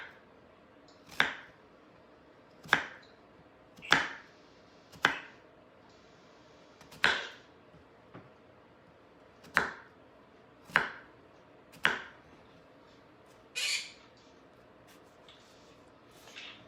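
A knife chops an onion for knishes on a board, about ten crisp, close strikes at loose intervals with quiet pauses between them and no talking.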